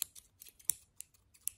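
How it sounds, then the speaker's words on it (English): Scissors snip repeatedly close to the microphone in a quiet room, with about eight or nine crisp, sharp cuts arriving in an irregular quick rhythm. "Are these the black or the pink scissors?"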